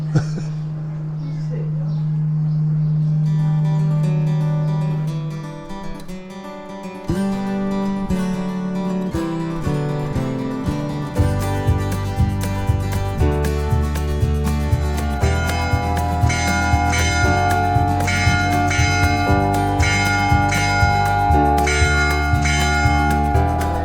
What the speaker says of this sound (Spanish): ya hemos escuchado cómo suenan todas las campanas